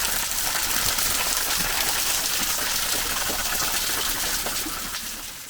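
A mountain waterfall near Fushimi Inari in Kyoto gives off a steady rushing wash of falling water that eases slightly at the end, with no voices.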